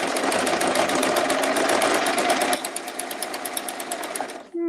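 A sewing machine works through fancy decorative stitching, a fast, even, rattling clatter close by that drops slightly in loudness partway through, then stops, followed by a faint click.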